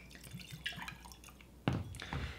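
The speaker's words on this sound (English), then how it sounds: "So we're gonna pour one into each glass." Booker's bourbon whiskey poured into a glass, a short liquid splash and drip that swells near the end of a brief, quiet stretch, heard close by with faint background clatter.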